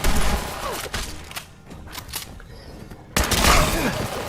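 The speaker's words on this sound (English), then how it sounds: "the combat rifle that I have right now is a pretty good one." Combat rifle gunfire in the video game Fallout 4, fitted with a scope and modifications: loud rapid bursts of shots at the start, a brief lull, then another heavy burst near the end.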